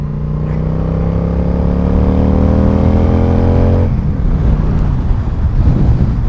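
A Yamaha XVS 1100 V-Star cruiser motorcycle pulls hard, its engine note climbing steadily for about four seconds. It then gives way to a loud, rushing wind roar. No one talks.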